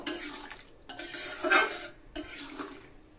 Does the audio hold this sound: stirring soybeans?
yes